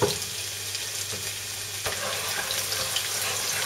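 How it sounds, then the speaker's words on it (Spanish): Vegetables fry in hot oil over medium heat, giving a steady broadband sizzle that fills the whole clip at an even level, with a faint low hum underneath. "Una vez que tengamos el aceite caliente, vamos a ir poniendo todas las verduras."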